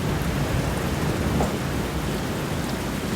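Heavy rain pours steadily in a thunderstorm, with a low rumble of thunder rolling under the dense, continuous hiss of the downpour.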